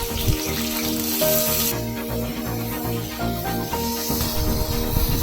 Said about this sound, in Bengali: ওই কড়াইয়ে আবার একটু তেল দিয়ে টুকরো করে কেটে রাখা আলুগুলোকেও অল্প একটু ভেজে নেব